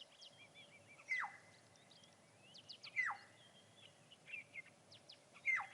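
Burchell's cuckoo picked up by an outdoor wildlife camera, three evenly spaced, sharply descending whistled calls roughly two seconds apart, fairly faint against a soft hiss with other small birds chirping.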